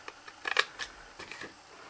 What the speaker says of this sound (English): we'll also snip that little rectangle off